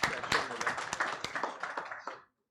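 An audience at a policy event in the Philippines claps steadily for a few seconds in an indoor hall, then the applause stops abruptly.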